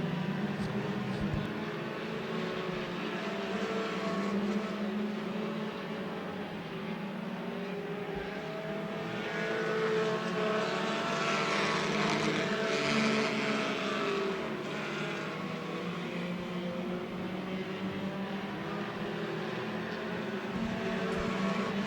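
Mini stock cars racing at Twin State Speedway, a short track in Claremont, NH, a continuous roar of several engines that swells and fades as the pack passes, heard from a moderate distance.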